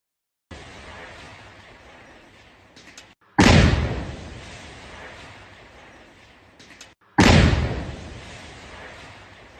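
Two powerful explosions blow apart a house, each a sudden loud blast followed by a rumbling decay of falling debris, with a gap of several seconds between them.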